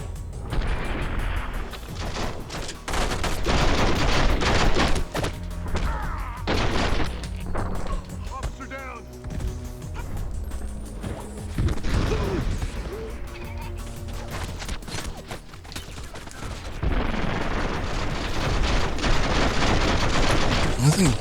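Gunfire in The Matrix: Path of Neo game: dense bursts of rapid shots and booming impacts, loud and close, with quieter gaps midway and heavier firing returning near the end.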